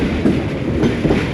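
Subak Raftar railcar crossing the bridge over the Jhelum River, a steady, loud rolling rumble of wheels on track with faint rhythmic clatter, no voices.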